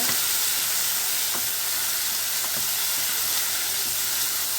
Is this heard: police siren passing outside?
no